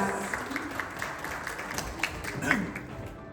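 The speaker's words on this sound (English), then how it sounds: "Big round of applause." Pageant audience applause at a preliminary interview competition, a steady spread of clapping from a crowd, moderately loud and continuous, mixed with some voices.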